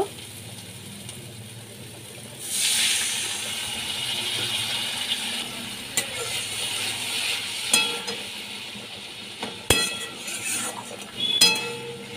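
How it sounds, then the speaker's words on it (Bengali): Water is poured into spice paste frying with black mustard for a bhola fish curry, setting off a sudden broad hiss that settles into steady sizzling, with occasional clinks of a utensil against the pan. "এবার আমি এর মধ্যে সামান্য জল দিয়ে দেব।"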